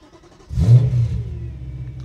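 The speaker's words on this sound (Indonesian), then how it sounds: "saya akan nyalakan mesin dulu untuk menyalakan AC dan Anda bisa dengar suaranya. V8 ini mesinnya." A rare BMW M3 E92 GTS with its V8 engine fires up, a quick starter whir bursting into a deep, loud rev that settles into a steady rumbling idle, heard alone with no talk.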